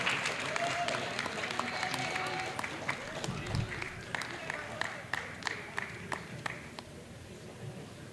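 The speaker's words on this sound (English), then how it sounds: "Let's give them a round of applause as they come receive their championship rings." Audience applause at a school board meeting as championship ring recipients come forward: steady clapping that tapers off, with sharp individual claps standing out and voices talking underneath.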